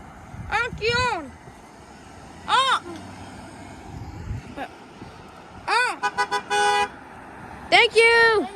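Passing cars sound their horns for children waving at the roadside, giving a cluster of short, close honks near the end between bursts of the kids' loud shouting.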